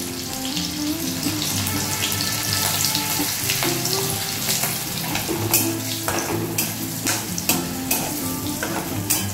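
Slit green chillies and a dried red chilli fry in hot oil with turmeric for dal, giving a dense, continuous sizzle with spatula stirs and scattered sharp crackles and pops close by.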